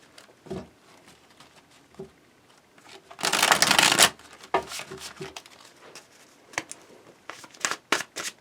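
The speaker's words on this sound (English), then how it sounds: "Give me while I shuffle this deck face up" A deck of tarot cards is shuffled by hand in a quiet room, with repeated soft riffles and taps and one longer, louder burst of card flutter partway through.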